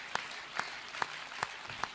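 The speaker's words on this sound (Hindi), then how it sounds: "आपकी तालियां कमजोर है सर" Thin, scattered clapping from an audience at a Hindi comedy poetry recital, a few sharp isolated claps spaced roughly evenly over a faint room background.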